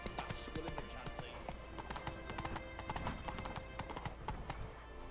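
Roach, a horse in The Witcher 3, galloping with rapid, steady clip-clop hoofbeats close by, a faint whinny mixed in and a quiet voice talking underneath.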